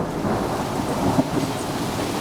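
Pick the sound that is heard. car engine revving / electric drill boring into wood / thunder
thunder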